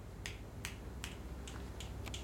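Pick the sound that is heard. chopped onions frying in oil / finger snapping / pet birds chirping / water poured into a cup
finger snapping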